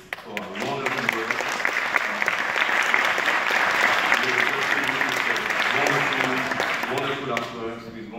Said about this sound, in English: to give a great thank you and applause for Isabel for her wonderful work.